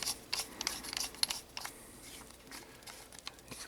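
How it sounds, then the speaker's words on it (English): Metal parts of a Henry AR-7 rifle click and scrape softly as the barrel is screwed on by hand, a few faint, close, irregular ticks and rubs in a quiet room. "Screw the barrel on."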